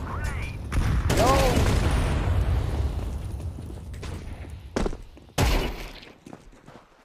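Loud gunshots and heavy booms hit in uneven bursts during a CS2 match, several sharp blasts standing out over game noise as players talk.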